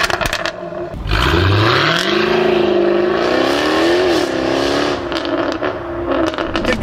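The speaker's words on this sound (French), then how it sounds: "Le bruit de l'échappement, c'était vraiment quelque chose de débile," Exhaust of an older original Jaguar F-Type revving loudly up close, a rising engine note that climbs and swells through several seconds with crackling overtones, heard alone without talk.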